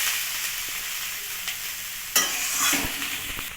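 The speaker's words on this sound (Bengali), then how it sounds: "গ্যাসের আঁচটা কমিয়ে দিয়ে 5 মিনিট মতন এটা আমি ভাজা ভাজা করে নেব" Banana stem fries in a pan over a lowered gas flame, a close, steady sizzling hiss with a few sharp spatula clacks and a louder burst of crackle midway.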